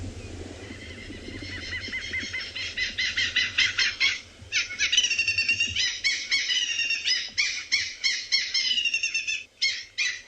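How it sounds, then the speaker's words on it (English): A loud, cackling bird call plays from a phone bird app on a morning safari in South Africa, a rapid run of harsh, laughing bursts repeating for about ten seconds with brief breaks, close and dominant. "I'm just going to play the call for you. Just listen into my hat as he flies away. It's a very loud cackling sound."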